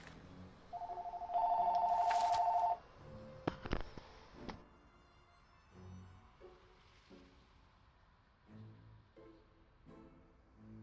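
A telephone rings in a room, a loud electronic ring burst lasting about two seconds near the start, followed by clicks and quiet, muffled movement noises.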